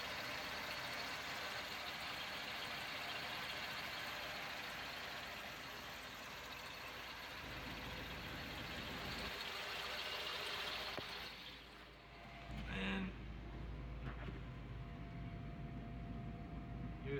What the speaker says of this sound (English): Yep, that's the engine, in case you wanted to see it.